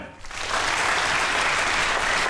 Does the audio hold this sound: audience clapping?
yes